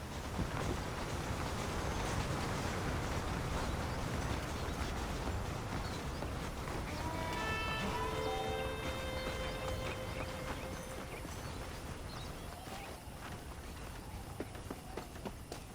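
Horse hooves clopping steadily in the Western game Red Dead Redemption, a continuous plodding rhythm under wind and ambient noise, with faint tonal music partway through.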